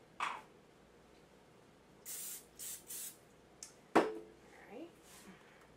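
Cooking spray hissing onto a pie dish for apple crisp in a home kitchen: three short, quiet bursts in quick succession, followed by a clatter of the dish.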